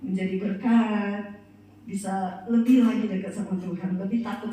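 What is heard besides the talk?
No everyday noises stand out.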